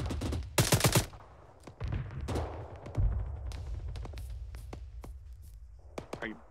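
Gunfire from the military video game Arma 3 rings out in a sharp burst of several rapid shots near the start, followed by scattered single cracks over ongoing talk by players.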